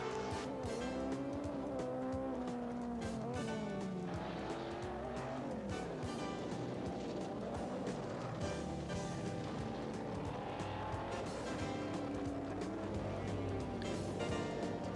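A rallycross race car corners tight on mixed dirt and asphalt. Its engine snarls and rises and falls continuously at close range, with tire squeal and skidding, and no voices are heard.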